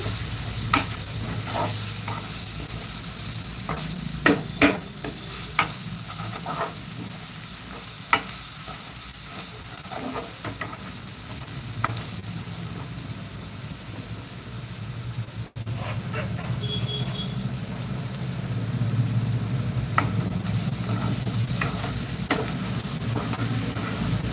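Mutton pieces tossed and fried in masala in a pan hiss with a continuous close sizzle, with intermittent spoon scrapes and stirring clatter that settle into steadier frying toward the end.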